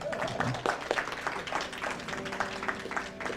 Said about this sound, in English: I mean, everybody should be applauding for that.